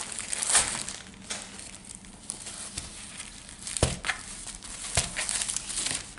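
Plastic sachet from a diamond painting kit crinkles and crackles close up in steady handling, with a few sharper crunches along the way.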